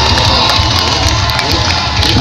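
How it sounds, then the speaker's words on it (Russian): A crowd at a motorcycle show in Ivanovo applauds and cheers, a loud continuous roar of clapping, shouts and whoops from many people outdoors. "Аплодисменты"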